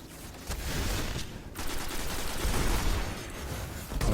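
A warlock's melee power blast fired from the hand in Destiny rattles out in a loud, dense volley of crackling shots, with sharp bursts near the start and end amid continuous busy game noise.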